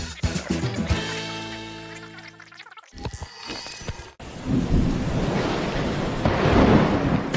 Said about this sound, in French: il pleut des cordes dehors